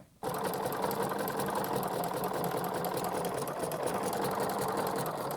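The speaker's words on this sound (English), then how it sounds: "You can also stitch that pipe cleaner along the edge of fabric" A sewing machine with a braiding foot stitches a pipe cleaner along the edge of fabric, its motor whirring steadily and close up for over five seconds without pause or voices.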